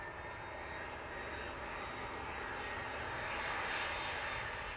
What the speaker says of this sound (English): So we'll pan around to the next aircraft inbound. Here he comes. This could be your EasyJet.